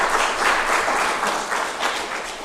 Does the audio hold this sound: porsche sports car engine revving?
no